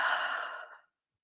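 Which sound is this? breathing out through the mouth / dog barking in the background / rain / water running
breathing out through the mouth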